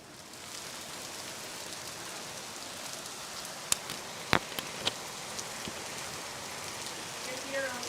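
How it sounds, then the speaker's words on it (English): Rain falls steadily outdoors as a soft, even hiss, with a few sharp drips and knocks near the middle and a quiet voice late on. "you're about to hear some rain"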